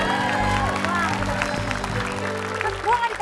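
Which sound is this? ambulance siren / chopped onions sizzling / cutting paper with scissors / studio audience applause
studio audience applause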